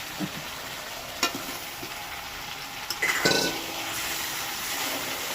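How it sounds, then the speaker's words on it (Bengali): Potatoes stir-fried with methi chicken in a pan: a steady sizzle with a spoon scraping and clinking against the metal, a louder stir of clatter midway, no talk. "এবার আলু দিয়ে ভালো করে কষাতে হবে"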